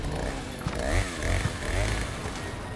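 A chainsaw-wielding enemy in the Resident Evil 4 Remake revs its saw, a buzzing engine drone that rises and falls over a few seconds at moderate level amid game sounds.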